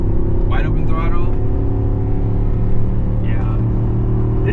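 Ford F350 with a 7.3L gas V8 at wide open throttle while towing a trailer up a 6% grade, a deep steady engine roar with a low droning hum throughout, and someone talking over it.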